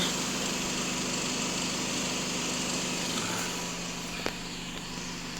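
A warmed-up Volkswagen Passat B8 diesel engine (CRLB) idles evenly throughout, droning with a low rumble and a constant mechanical hum, close by and without voices.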